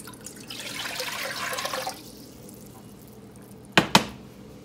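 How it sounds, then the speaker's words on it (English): Four cups of water poured into a cooking pot on a stove, a short splashing gush for about two seconds, then quiet before two sharp clanks of the pot. "So I'm going to turn my pot on and dump in 4 cups of water."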